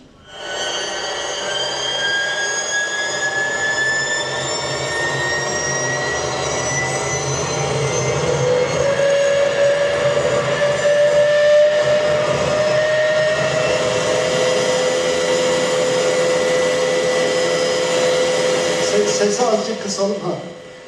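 A large jet engine roars loudly and steadily on a test run at around 15,000 rpm, its high whine slowly climbing in pitch before cutting off near the end.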